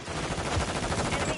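Rapid automatic gunfire from friendly troops in the Modern Warfare 3 video game, a dense, continuous burst of shots close by and loud, with no voices over it.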